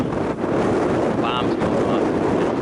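Strong wind gusting across open Kansas prairie during late-season hunting, a loud continuous broadband roar buffeting the microphone throughout, with a brief faint whistle midway.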